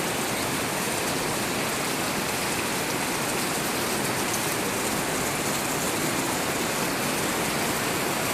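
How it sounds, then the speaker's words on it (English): Steady, dense rain falling in Kailua-Kona, Hawaii, a constant close hiss of drops hitting surfaces with running water beneath, unbroken throughout and with no voices. "Wish we could send some of this rain to California."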